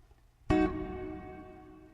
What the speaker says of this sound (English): You can hear the delay in there.